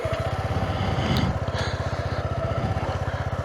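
A Suzuki V-Strom 250 SX motorcycle putters along a rough, steep downhill track, its small engine chugging in a fast, even pulse at low, steady volume throughout.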